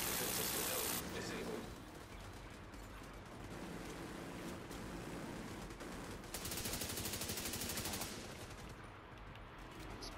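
Video game gunfire blends into a steady, loud wash of shooting and noisy effects that runs for about ten seconds, with denser bursts near the start and again around the middle.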